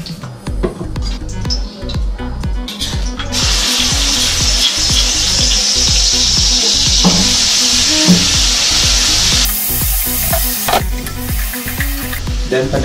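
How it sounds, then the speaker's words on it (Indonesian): Ground spice paste for Balinese-style squid sautéing in a little hot oil, a steady broadband sizzle under a busy stir-and-scrape rhythm of a utensil in the pan, loud and close throughout. "Hal pertama yang perlu kalian lakukan adalah kita masukkan sedikit minyak, kita tumis bumbu halusnya"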